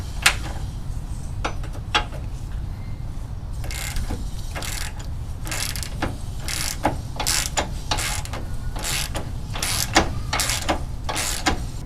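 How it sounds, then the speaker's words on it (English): A wrench ratchets a leaf spring bolt and its locking nut loose. It gives a steady run of sharp, close clicking bursts that repeat through the clip over a constant low mechanical rumble, with no talking. "You'll notice I'm using a fair amount of force to get the bolt and the nut all the way off."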